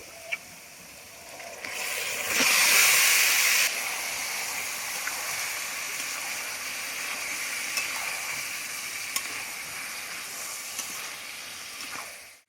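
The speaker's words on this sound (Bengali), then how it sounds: "পেঁয়াজটা হালকা ভাজা হয়ে গেছে এবার আমি মাখিয়ে রাখা মাংসটা দিয়ে" Marinated chicken sizzles and spits in hot oil with lightly fried onions on a clay stove, a steady crackling hiss that briefly swells louder, with occasional clinks of a utensil.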